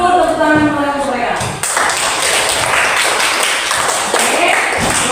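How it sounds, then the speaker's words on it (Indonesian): A classroom of students claps for a student group after their presentation. A teacher's voice comes first, then a dense, steady patter of applause runs to the end. "Oke, kasih dulu tepuk tangan untuk mereka."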